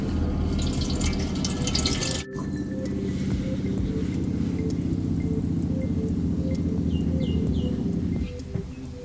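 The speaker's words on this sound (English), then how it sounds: "I thought I'd show you how bad it actually is, how long it's taking to drain." Water drains slowly through a clogged caravan grey water pipe, a continuous gurgling, trickling wash with faint drips, one sharp knock near the start, easing slightly toward the end.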